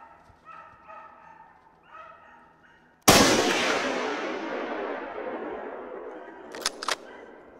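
A hunting dog barks repeatedly in short bursts at a distance during a snowy driven hunt, then a loud gunshot cracks and rings out, followed by a couple more yips.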